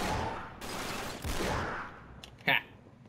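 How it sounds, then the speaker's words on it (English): Gunfire in the Uncharted 3 video game: bursts of rushing, noisy shots followed by one sharp crack near the end, heard over the game's background sound. "Shooting at demons."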